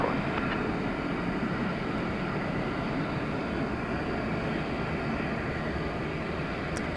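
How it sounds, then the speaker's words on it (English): A United Airlines Airbus A319 arrives at DFW Airport at night, heard as a steady, broad jet roar at moderate distance that holds unchanged for several seconds. "An Airbus A319 is that."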